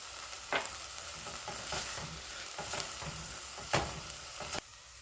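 Bacon frying with onions, garlic and butter in a pan for a lighter creamy corn chowder: a steady close sizzle runs throughout, broken by a few sharp utensil scrapes and knocks of stirring, with no talking.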